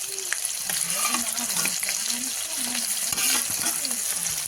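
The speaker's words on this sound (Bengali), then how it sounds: "পেঁয়াজটা একটু ভাজা ভাজা হয়ে গেছে এবার দিয়ে দেবো রসুন" Onion and garlic sizzle and fry in hot oil in a wok for a chicken curry, a steady close crackle with occasional stirring scrapes and no talk.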